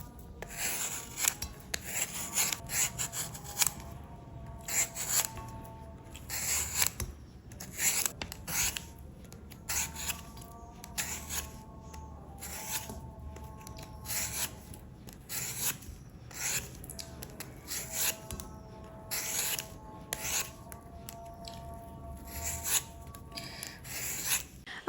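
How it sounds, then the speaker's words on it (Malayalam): Skin being peeled off a frozen mango in a home kitchen, a close, quiet series of scraping and rubbing strokes repeating steadily with no talk. "ഇനി ഈ മാങ്ങയുടെ തൊലി ഒന്ന് നമുക്ക് പീൽ ചെയ്തെടുക്കാം."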